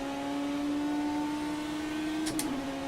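Race car engine in the rFactor 2 sim at Sebring, a steady high-pitched drone holding near constant revs, then a quick shift blip near the end.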